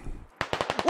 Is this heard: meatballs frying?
no